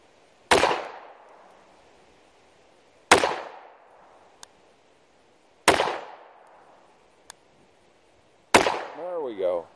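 Grison MC14T .380 Auto pistol, a Beretta clone, fired outdoors at a distant target: four sharp, loud shots spaced about 2.5 seconds apart, each with a decaying echo, plus faint clicks between and a short rattle after the last shot.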